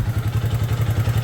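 A Geon Pantera 200 motorcycle engine starting and running in a steady, rapid low putter, loud and close, with no voices.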